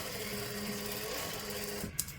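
Electric sewing machine stitching along the pocket of a suit, a steady fast whirring hum running nearly two seconds before stopping with a faint click, close up and alone.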